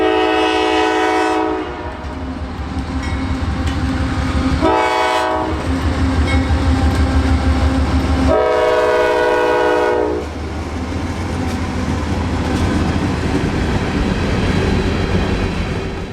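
A CSX local freight train at night in Central Florida, led by a rebuilt AC44 locomotive, sounds its horn in several long, loud blasts over a steady rumble of the engine and rolling cars.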